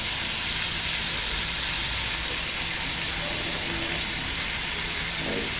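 Capsicum shashlik sizzling steadily in a pan at home, a continuous bright frying hiss throughout with faint low rumble beneath.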